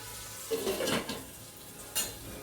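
Chopped onions cooking in a covered pan for besan dosa give a soft, steady sizzle, broken by a few clattering knocks of lid and pan.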